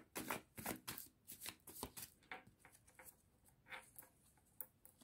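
Tarot cards are shuffled by hand close up, a quiet, rapid flurry of riffling and patting taps at an uneven rhythm with no talking.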